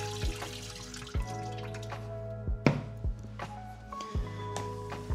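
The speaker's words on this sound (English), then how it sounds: "Just gonna wash the flour right off of them." Bones coated in flour rinsed under a running kitchen tap, a steady close stream of water with sharp intermittent knocks and clatters as the bones are handled in the sink, no talking.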